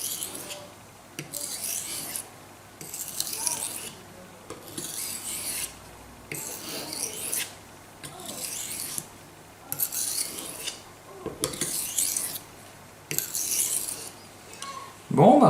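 A steel knife blade is drawn across a wetted Pyrenees whetstone, the Ariégeoise, in about a dozen steady rasping strokes with brief pauses between them, close and clear, with no talk.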